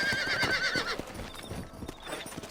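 Horse hooves clip-clop at a quick gallop alongside a brief whinny in Red Dead Redemption, with a rushing game background and no talking.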